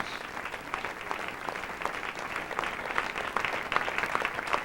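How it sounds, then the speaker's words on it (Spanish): A church congregation applauds during a Spanish-language sermon, a steady wash of many hands clapping at moderate distance for several seconds, with no talk over it. "Dele un aplauso al Señor con todo su corazón."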